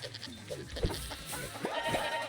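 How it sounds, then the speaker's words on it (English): A goat in the Moving Out 2 video game bleats a few times in quick wavering cries, fairly close, over busy game noise and music, with no talk. "I've just given that a whack, that goat."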